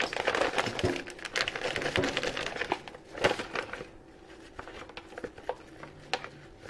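A big plastic bag crinkles and rustles as it is handled up close, a dense burst of crackling that eases into quieter, scattered crinkles toward the end.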